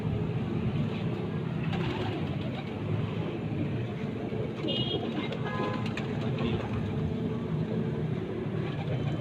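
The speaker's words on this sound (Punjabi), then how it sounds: "ਤੇ ਜਨਾਬ ਸ਼ੌਕ ਕਰਨ ਵਾਲਾ ਜੇ ਕਬੂਤਰ।" A Lakha fancy pigeon coos softly beneath a constant loud rumble of background noise on a rooftop, the low calls faint and partly masked, with a few brief chirps near the middle.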